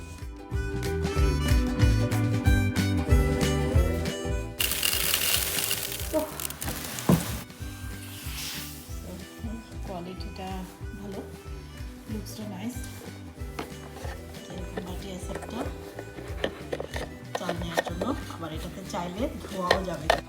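Uncooked rice pours into a plastic storage container with a loud, hissing rush lasting a few seconds, surrounded by clatter and handling noises in a home kitchen while someone talks throughout.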